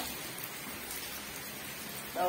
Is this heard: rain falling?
yes